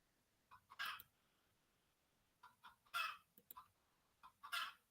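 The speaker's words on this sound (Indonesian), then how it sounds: "karena kondisi lingkungan di rumah ini ada ternak ayam, jadi agak terganggu suaranya" Backyard chickens kept at a house cluck and crow in three separate bursts, fairly close and loud against a quiet background with no talking.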